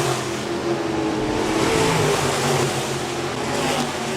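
B-Modified race cars roar around a dirt speedway, a steady dense engine drone with layered tones from several cars, fairly loud and continuous with slight swells, no talk.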